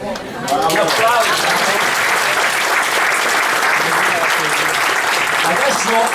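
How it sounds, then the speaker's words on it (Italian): Audience applause at an indoor talk on energy autonomy, a dense continuous clapping from a crowd that rises quickly and holds steady at full strength throughout. "Un applauso."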